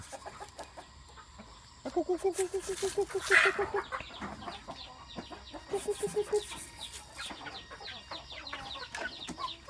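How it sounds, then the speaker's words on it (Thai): Egg-laying chickens cluck in short rhythmic bursts, with a few louder squawks and background chatter nearby. "เลี้ยงไก่ครับเลี้ยงไก่กำลังไข่"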